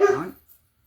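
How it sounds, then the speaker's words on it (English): One short, close dog bark or yip indoors, a single sharp burst that fades within half a second. "That was my dog barking."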